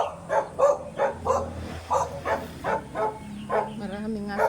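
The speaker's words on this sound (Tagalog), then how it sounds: "Maraming aso." A pack of dogs barks on a walk around a rural farm area in the Philippines, with about nine sharp, evenly spaced barks at moderate distance over faint background noise.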